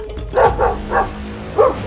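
A dog barks close by, three or four sharp barks in quick succession, loud and clear.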